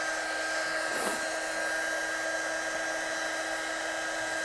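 Heat gun blowing steadily to heat-set embossing powder on a large card, a constant airy whir with a faint motor hum, quiet and unchanging, no talking.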